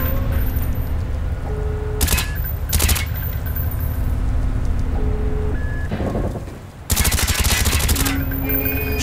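Gunfire in a Call of Duty Black Ops video game as soldiers shoot out door hinges: two short bursts close together, a quieter stretch, then a long, loud sustained burst over steady rain-like background noise.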